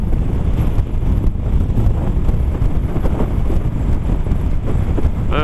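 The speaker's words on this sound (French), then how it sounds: "j'entends beaucoup de vent" Heavy, constant wind roar buffeting the microphone, loud and steady throughout, while riding at speed on a 2018 Piaggio Vespa 300cc scooter.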